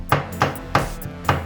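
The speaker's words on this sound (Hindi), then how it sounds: "टमाटर को भी आप इसी तरह कूट लेंगे।" Tomatoes crushed by pounding in a mortar while cooking keema muttar, five sharp, evenly spaced thuds, loud and close, with nothing else audible.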